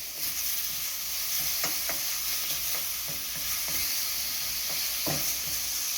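Tomatoes sizzle in hot palm oil in a pan as they are stirred, giving a steady close frying hiss with scattered light scraping clicks from the stirring.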